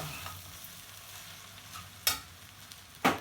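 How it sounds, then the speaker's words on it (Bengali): Egg is stirred into noodles frying in a pan, with a low steady sizzle and a few sharp scraping clatters of the utensil near the end, close and fairly quiet. "এই যে এখন ডিমের গুঁড়াটা মিশাই দিলাম এভাবে দিয়ে সবটার সাথে মিশছে"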